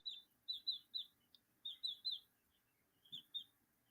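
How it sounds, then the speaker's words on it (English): Pet birds chirp in quick bright bursts, groups of two to four short tweets separated by brief pauses, fairly close and alone in a quiet room. "They're definitely an interesting bird."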